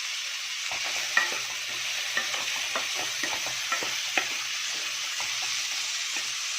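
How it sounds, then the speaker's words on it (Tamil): Mixed vegetables are stirred with masala in a hot pan for veg cutlets, a constant bright sizzle punctuated by a regular series of spatula scrapes and taps, close and clear, with no talking. "இந்த மசாலாவோட நல்லா இதையும் மிக்ஸ் பண்ணிக்கோங்க"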